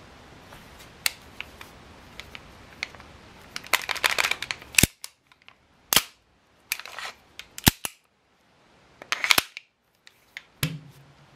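A gas-powered airsoft sidearm pistol fires a string of sharp, loud cracks, some singly and some in quick clusters, with short silent gaps between the bursts and no talking.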